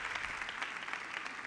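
A church congregation applauds during a sermon, with dense, steady clapping throughout a short burst.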